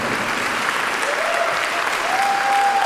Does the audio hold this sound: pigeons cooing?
no